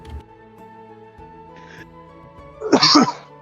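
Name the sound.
cough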